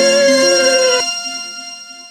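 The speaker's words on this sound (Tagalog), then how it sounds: "Ang tagal mo naman sumagot, Samantha" Cellphone ringtone for an incoming call, a bright repeating melodic tone that sounds for about a second and then cuts off, leaving a faint lingering hum.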